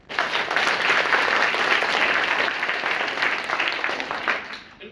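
Children clap together in a school competition, a dense and steady burst of applause that holds for several seconds before tapering off, with no speech over it.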